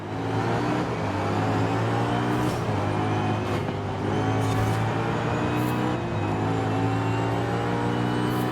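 BMW M3 GTR race car driving in Forza Horizon 5, a loud, steady engine drone that shifts pitch through gear changes over several seconds, heard up close without any talk.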